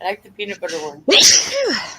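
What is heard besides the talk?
sneeze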